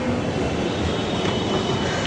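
Mumbai metro train in motion, a loud continuous rumble of wheels and carriage noise with faint rail clatter, heard close and steady throughout.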